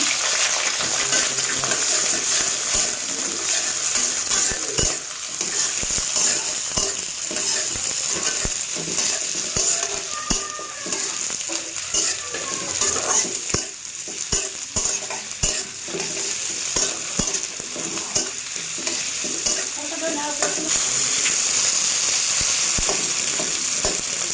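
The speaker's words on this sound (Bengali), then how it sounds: "এখন দিয়ে দেবো তেজপাতা, দিয়ে দিয়েছি দারচিনি, দিয়ে দিচ্ছি এলাচ, আর দিয়ে দিচ্ছি পেঁয়াজ কুচি।" Bay leaf, cinnamon, cardamom and chopped onion crackle and sizzle in mustard oil, with continuous loud stirring and spatula scrapes and clatter over a long, busy stretch.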